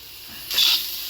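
Onion and green chilli hit a hot pan with turmeric and salt, giving a sudden bright sizzling hiss that swells midway through and then settles into a steady frying crackle.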